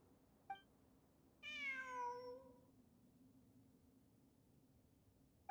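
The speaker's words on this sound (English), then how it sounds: "It really is a cat." A cat meows in the video game Genshin Impact, one long drawn-out meow preceded and followed by short faint chirps, clear and fairly quiet over a low background hum.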